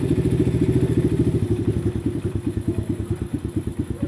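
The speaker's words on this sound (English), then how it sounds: "So the engine's idling." A small 50cc-250cc dirt bike engine idles with the choke open, loud and close, its rapid, even thumping pulses gradually loosening and slowing toward the end.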